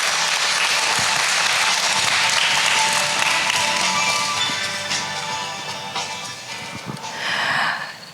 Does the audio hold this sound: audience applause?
yes